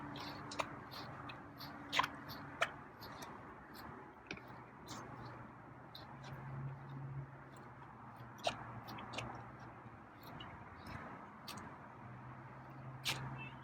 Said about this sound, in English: Okay, hear him slurping.